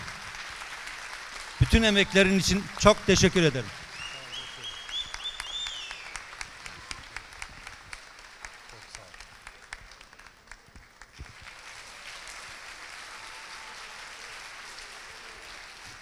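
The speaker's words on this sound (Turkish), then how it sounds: "Ben büyük bir alkış daha istiyorum" An audience at a Turkish folk music concert applauds teacher Baran. The clapping trails off after a burst of speech, with talk over it.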